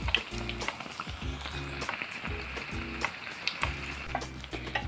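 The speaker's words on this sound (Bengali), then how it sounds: "1 হাতা ব্যাটার আমি গরম তেলে দিয়ে দিলাম" A ladleful of milk-powder malpua batter fries in hot oil on medium heat with a steady crackling sizzle over a pulsing low background tune.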